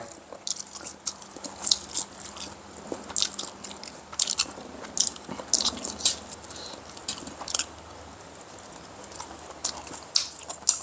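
Food being bitten and chewed close up at a Thai home meal, with repeated crisp crunchy bites and wet mastication in an irregular rhythm, no talking.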